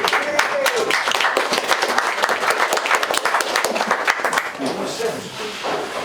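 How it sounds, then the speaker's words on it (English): A small bar audience at a Christmas magic show in the Barbican, Plymouth, gives brisk, fairly close applause with individual claps standing out, tapering off near the end as a voice speaks over it. "There's only 5 of you clapping."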